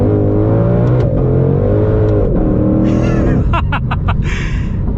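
A Ford Shelby GT500 of over 700 horsepower accelerates hard, its engine note loud and close as it climbs steadily in pitch, then a quick series of rough pulses and a shift, recorded from inside the car.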